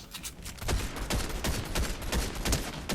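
Rapid gunfire from the video game Fortnite, a dense burst of repeated shots in quick succession with no talk over it.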